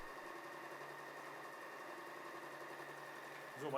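A W6 N 1615 sewing machine runs a straight stitch on stretch fabric, humming steadily and faintly at an even speed for the whole stretch before a slight rise at the end.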